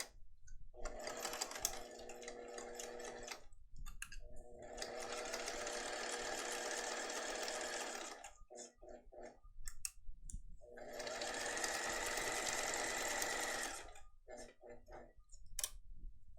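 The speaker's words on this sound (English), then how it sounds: "And once again, sew all the way down that edge." A sewing machine with a zipper foot stitches down the edge of a fabric case in three sustained runs of fast, rhythmic mechanical ticking, separated by short pauses with clicks and handling noises.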